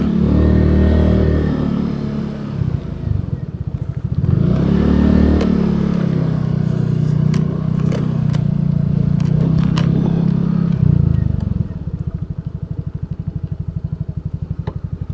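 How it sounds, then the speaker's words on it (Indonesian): A small Suzuki Nex II motorcycle engine runs close by, revving up and down several times before settling into a lumpy, putting idle. "ini motor Suzuki Next 2 nya Mas Agung ya."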